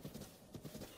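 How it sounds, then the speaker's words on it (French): Rhythmic hoofbeats of a horse galloping in Zelda Breath of the Wild, quick repeated thuds in pairs, faint and steady over quiet game ambience. "Attends, je vais prendre un petit cheval."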